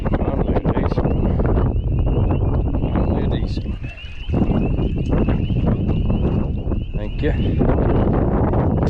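Strong wind on a lake during a bass fishing trip buffets the microphone in a loud, continuous, gusting roar that dips briefly midway.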